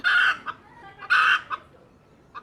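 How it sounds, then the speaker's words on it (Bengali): A hen clucks loudly close by: two drawn-out squawking calls, each trailed by a short cluck, then a final brief cluck. "এই মুরগি ডাকিস কেন কী হয়েছে"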